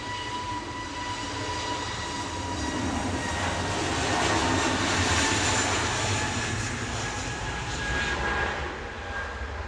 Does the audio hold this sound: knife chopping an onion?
no